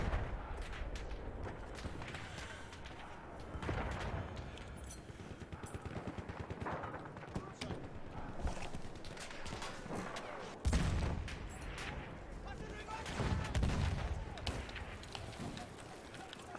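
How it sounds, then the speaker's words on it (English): Heavy gun firing in the video game Battlefield 1, rapid sustained bursts of gunfire with booming impacts, continuous and fairly loud amid game noise, with someone talking over part of it. "Ooh, that's a big heavy gun right there"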